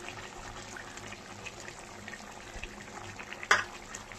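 Chicken sizzling and bubbling in a pan as sour yogurt is added and stirred in, a steady low wet frying hiss with one sharp clatter of the spoon near the end.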